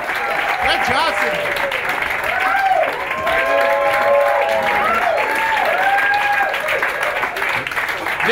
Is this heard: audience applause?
yes